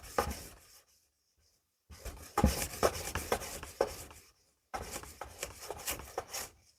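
A Scandi-ground knife edge being sharpened on an abrasive with light passes to remove earlier scratches: three bursts of steady rasping strokes, close and fairly quiet, separated by brief pauses, with no talking.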